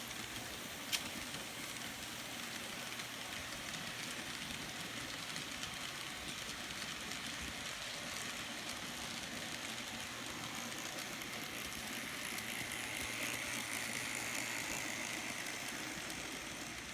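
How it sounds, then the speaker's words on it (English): Steady, continuous rumbling hum of a small DC model train, N or HO scale, running along a track, unchanging for the whole stretch, with no voices. "And now it's time to run some trains."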